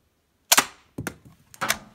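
Toy cannon from a 1999 Fisher Price Great Adventures Magic Castle playset, three sharp plastic snaps or pops spaced about half a second apart, close and crisp in a quiet room.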